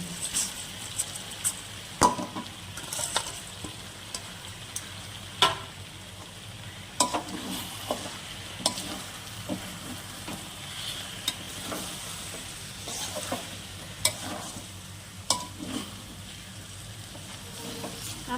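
Chicken with spices and basmati rice being stirred in a pan for chicken pulao, a soft ongoing sizzle with irregular scrapes and knocks of a spoon against the metal.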